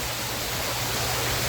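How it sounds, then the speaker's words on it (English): A Halloween prop water blaster sprays at a haunted tent setup, a steady, loud hiss of rushing water that keeps going without a break. "Right now the water blaster's going off, hitting this guy on the chin"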